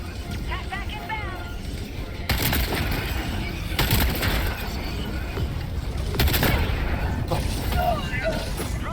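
Crossbow bolts exploding in the video game Helldivers 2, with several loud booming blasts and gunfire bursts piling up over a dense, continuous battle din, with voices also present.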